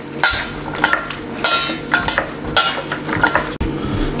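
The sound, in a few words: mixing eggs into cut potatoes for fries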